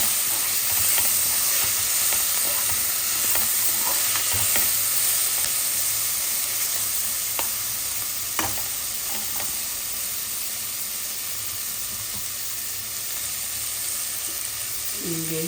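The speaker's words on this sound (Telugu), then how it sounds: "కొంచెం వేగనివ్వాలి టమాటాలు." Tomatoes frying in oil in a pan produce a steady, close hiss and crackle that runs unbroken, with a few faint clicks scattered through it and no voices.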